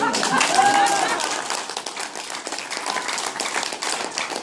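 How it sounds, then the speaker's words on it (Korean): A crowd claps together in a dense, steady burst of applause, loud at first and then settling into sustained clapping. "박수 한번 쳐버리면"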